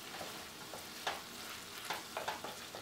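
Salted shrimp stirred into a pan of squash and string beans with pork, a quiet steady sizzle broken by a few sharp scraping clicks of the spoon against the pan.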